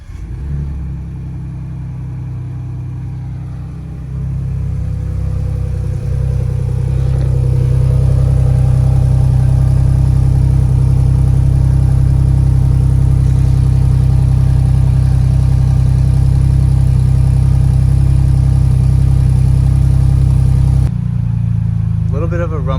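A Ford Bronco's cold engine turns over by remote start and settles into a loud, steady, deep idle rumble that swells slightly after a few seconds, then cuts off near the end.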